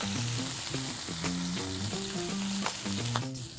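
Chicken sears in hot oil in a pan, a steady close sizzle and crackle running without a break, with no voices over it.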